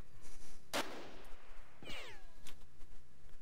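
A single gunshot crack in the video game Jagged Alliance 2, sharp and loud, followed by a descending whine and fainter clicks and game effects.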